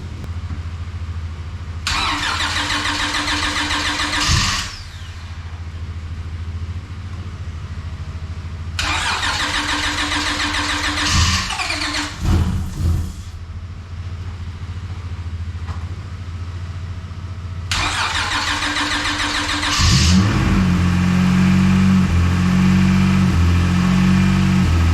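A V6-swapped Honda Civic cranks over in three separate start attempts, each a loud starter whir lasting a couple of seconds, before the engine catches and settles into a steady, close running idle.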